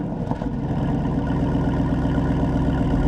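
Jeep Wrangler Rubicon 392 Final Edition with its V8 engine, a deep rumbling exhaust note at a steady idle, loud and close, with no talking.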